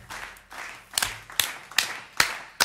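A canned applause sound effect played during a live home-broadcast show: a short run of sharp, evenly spaced claps, roughly two or three per second, over a soft hissy bed.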